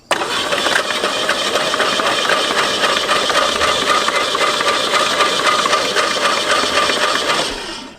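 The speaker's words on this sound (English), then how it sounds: "Let's throw a battery in it, cross the solenoid, and spin it over." Barn-find Ford Mustang engine cranked over on the starter after sitting 25 years, plugs removed, a loud steady whirring churn that runs unbroken for about seven seconds before stopping.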